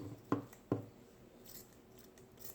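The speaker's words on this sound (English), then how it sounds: "A pair of very sharp scissors is definitely helpful." Sharp scissors snip through fabric for a no-sew face mask, two crisp close cuts in quick succession followed by faint rustling of cloth, no voices.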